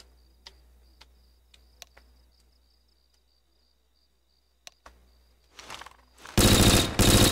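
In Garry's Mod, a P90 submachine gun opens up at the end as a loud, dense burst of rapid fire, after sparse faint ticks and clicks over near silence.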